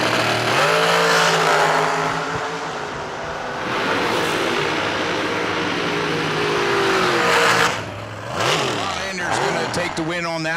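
Drag racing cars roar and rev at a fall event as they launch down the strip, loud engines rising and falling with a passing sweep, under continuous announcer talk over a PA.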